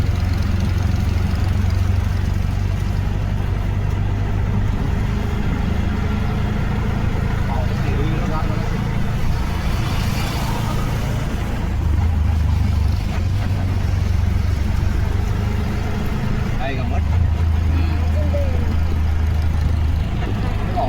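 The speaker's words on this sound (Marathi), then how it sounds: "अशा प्रकारे आपण रिक्षा पकडलेली आहे" An auto rickshaw engine drones through a ride in Chiplun, Konkan, a loud steady low rumble with road noise throughout while people talk over it.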